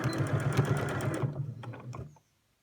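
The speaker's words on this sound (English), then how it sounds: "I'm just going to do straight stitch all the way around." A sewing machine runs a straight stitch along scrubs fabric, its rapid needle chatter steady and close before slowing with a few last clicks and stopping.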